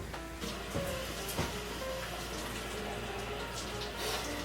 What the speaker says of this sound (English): now I'm gonna go wash my hands